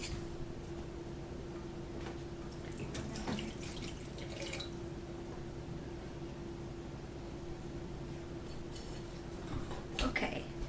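Tap water runs steadily into a cup for a homemade chocolate cake in a home kitchen, a continuous close splashing flow with a low hum beneath it and a few clinks of dishes, with no talking.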